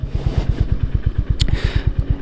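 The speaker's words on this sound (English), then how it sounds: "And thanks to that air-cooled engine, listen to this. Really nice thumping sounds." A 2021 Honda GB350S air-cooled single-cylinder motorcycle idles with a steady, heavy, deep thumping pulse, close and loud, with faint mechanical clatter over the top.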